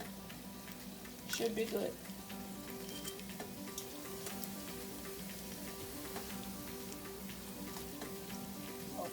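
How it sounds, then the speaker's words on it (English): Samosas and rolls frying in a pot of hot oil, giving a steady soft sizzle and crackle throughout, with a brief louder bubbling burst early on and a person talking briefly over it. "we're just gonna fry this until it's golden brown"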